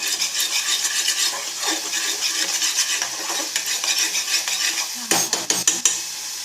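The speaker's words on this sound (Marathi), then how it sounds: "हलवून घेऊया मस्त." Spatula stirring ground coriander and cumin powder in a pan while cooking chhole, a steady scraping rustle with a few sharp metallic taps near the end.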